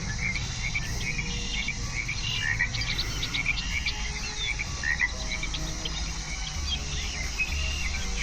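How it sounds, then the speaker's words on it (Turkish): Frogs croak in a dense outdoor chorus at Binh Quoi Village, Vietnam, layered with constant insect trilling and faint bird calls, steady and moderately distant throughout. "Tam ortada kurbağaları görebiliyorum."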